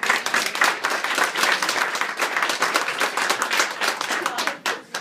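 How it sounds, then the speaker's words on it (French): Guests at an evening gathering at the Resto-Auberge Peitry applaud in a lively, continuous patter of many hands, close and full, tapering slightly near the end. "je voudrais qu'on l'applaudisse quand même parce que c'est quand même assez important"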